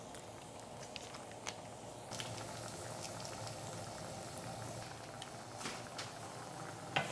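Pot of Korean tteokbokki rice cakes with fish cake in sauce simmering on the stove, a steady low bubbling with scattered soft pops and small clicks throughout, fairly quiet and even.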